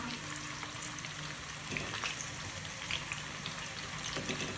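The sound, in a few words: banana chips deep frying in hot oil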